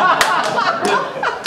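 An audience at a seminar claps in a brief, dense burst of loud, close applause, with a few sharp slaps and faint chuckling mixed in.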